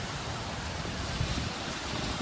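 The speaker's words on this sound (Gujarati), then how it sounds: "વરસાદ ઉલટામાં વધી ગયો છે" Heavy rain pours down during a cyclone storm in Bhavnagar, a steady, dense hiss of falling water at moderate level with no voices.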